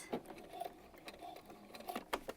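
A sewing machine runs a few short bursts of back stitches on fabric, with quick mechanical chattering and small clicks, close and moderately loud, with no talking.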